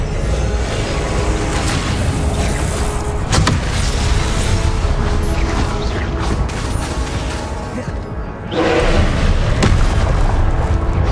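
Booming blasts of the Confringo fire spell in Hogwarts Legacy, loud and close, with repeated thuds and crackling bursts layered over dense game noise and a sharp surge near the end.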